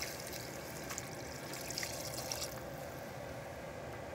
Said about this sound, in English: And now it's time to add your 3 cups of water.